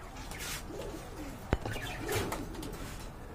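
Running pigeons in a large collection coo softly in the background, a low murmuring of several birds with one sharp knock partway through.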